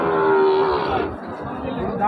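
A Sahiwal-breed bull calf lows at a cattle market, one long, close, loud moo followed by lower grumbling, with a faint murmur of market voices in the background.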